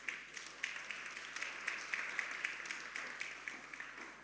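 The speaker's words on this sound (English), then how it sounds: "please give them a warm round of applause" An audience applauds at the opening ceremony of a ministerial development forum for Latin America and the Caribbean: a faint, steady patter of many hands clapping that runs throughout.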